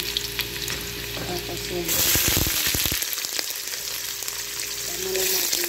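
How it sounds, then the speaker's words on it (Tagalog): Garlic drops into hot cooking oil and sets off a loud, crackling sizzle that swells into a bright burst of frying, then settles into a steady hiss nearby while a voice speaks briefly. "mainit na yung mantika natin. Lagay na natin yung bawang."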